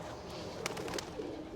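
Pigeons coo softly a few times in an outdoor Norwegian scene in Bergen, faint and somewhat distant against steady background noise.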